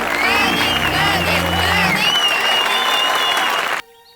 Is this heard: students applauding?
yes